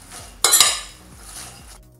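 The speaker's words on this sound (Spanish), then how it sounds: "lo vamos a remover para que se mezcle todo bien" A utensil stirs sliced onion with sugar, salt and oil in a bowl, giving a sharp scrape and clink followed by softer scraping against the side, close and alone.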